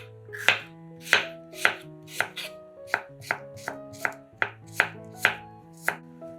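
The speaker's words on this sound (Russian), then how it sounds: "Перец нарезаем полукольцами." A knife chops steadily through a bell pepper into half-rings on a cutting board, about a dozen sharp, close strokes in an even rhythm, with no talking.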